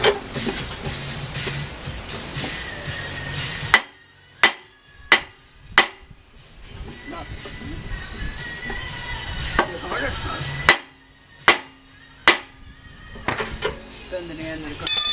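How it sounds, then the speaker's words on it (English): Sharp metallic taps on the end of a log splitter engine's crankshaft come in two clusters of four evenly spaced hits, each loud and close, with someone talking in the stretches between them. "I'm going to try prying it a little bit, tapping on the end of the crankshaft"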